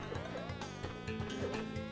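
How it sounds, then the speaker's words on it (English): A bee buzzing in Crash Bandicoot 2, a steady, moderately quiet drone with a rhythmic pulsing, heard alone. "Not many sounds other than that bee slowly gaining on you can ramp up my anxiety as much as that."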